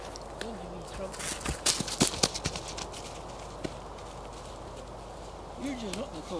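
A curious horse walks close by in a field, its hooves giving a few irregular soft clip-clops that peak in a short cluster, over faint background noise and distant bird calls.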